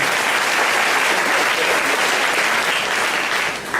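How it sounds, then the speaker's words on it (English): Loud, continuous applause fills the room from a conference audience at an arts event on learning disabilities, the dense clapping staying even throughout and dipping briefly at the very end. "All right, give yourself a round of applause."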